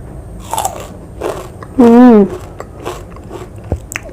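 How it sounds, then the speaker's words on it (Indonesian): A person bites raw watermelon rind with sambal rujak close to the mic, giving a crisp crunch followed by chewing. A loud vocal exclamation rises over the middle, and brief talk surrounds it. "Kita tes kriuk ini ya guys, tuh kulit semangka ya guys"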